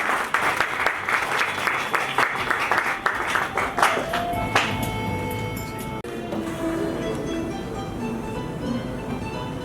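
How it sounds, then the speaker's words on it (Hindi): An audience applauds at a Diwali celebration held at a resort, with dense sustained clapping from a large crowd that continues steadily throughout, and some voices mixed in beneath it. "एक बार जोरदार तालियां।"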